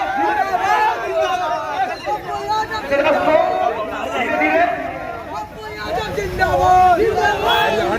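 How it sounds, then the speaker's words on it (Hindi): A large, dense crowd chatters at a Mahakali temple gathering in Hilsa during Navratri worship. The babble is loud and continuous, with voices overlapping close by throughout. "काफी भीड़ दिख रही है।"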